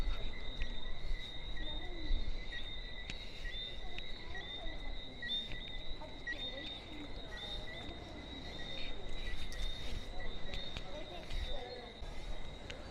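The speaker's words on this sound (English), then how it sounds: "You can hear all the noise of the crickets in the background." Steady, dense chirping of crickets at night at a Barbados hotel, with two bright shrill tones running continuously, moderately close, over a low ambient rumble.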